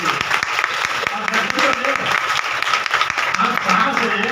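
Loud, sustained applause from an audience gathered for a satsang at an ashram, a dense wash of many hands clapping together steadily, with a few faint voices underneath.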